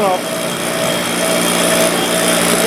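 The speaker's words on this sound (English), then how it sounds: "in the wire brush on the grinder, clean them up a little bit, make them look a little nicer" A cheap wire brush spinning on a grinder to clean the steel shells of 1984 Corvette front sway bar bushings, giving a steady, loud, high whine that continues without a break, with a voice talking over it.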